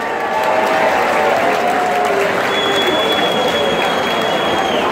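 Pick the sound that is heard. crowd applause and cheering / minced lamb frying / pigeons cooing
crowd applause and cheering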